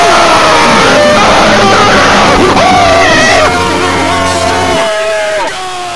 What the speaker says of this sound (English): everyone will now scream at the top of their lungs in joy